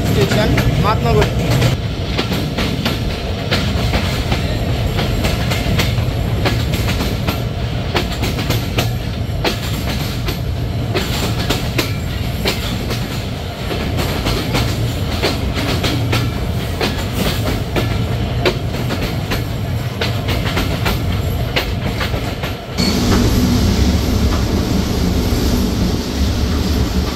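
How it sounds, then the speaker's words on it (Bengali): Titumir Express passenger train rolling slowly over a bridge near Atrai, a steady loud rumble with rhythmic clickety-clack of wheels over rail joints, continuous throughout and changing character near the end. "ট্রেনটা কিন্তু আস্তে আস্তে ব্রিজটা অতিক্রম করে যাচ্ছে।"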